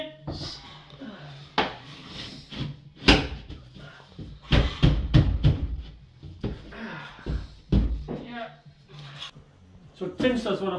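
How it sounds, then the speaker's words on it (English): Several sharp knocks and taps of a hammer on a wooden kitchen cabinet come in uneven bursts, some close together, mixed with someone talking between and over them. "To give him a tap with hammer, these are a bit tight."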